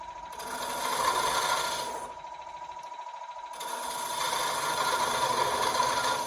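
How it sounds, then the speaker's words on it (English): Skew chisel cutting wood on a turning lathe while shaping a biscuit cutter, a steady rasping, scraping whir that drops out briefly midway, then resumes at an even level, no talk. "So then, using skew chisel,"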